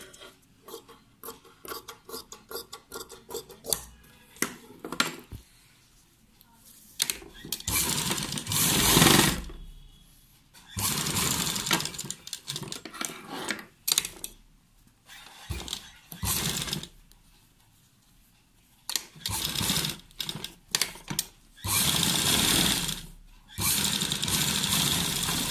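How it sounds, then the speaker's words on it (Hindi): A sewing machine stitches a shirt collar in several separate runs, each a loud, steady whir of rapid stitching, with short pauses and handling of the fabric in between. "और अब इसे यहां से कट करके इसे ऊपर की तरफ फोल्ड करके हम सिल देंगे"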